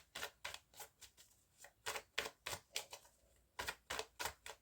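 Tarot cards are shuffled by hand in quick, rhythmic bursts: about a dozen soft papery riffles in a row, close and fairly quiet, with brief pauses between groups.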